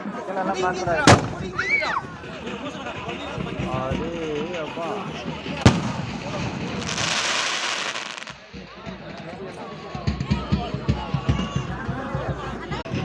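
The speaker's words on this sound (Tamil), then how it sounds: "இங்கே பாருங்கள் பட்டாசு வச்சு போகிறாங்க" Sharp firecracker bangs burst out now and then, with crackling pops and a hissing rush, while people talk over the noisy outdoor background.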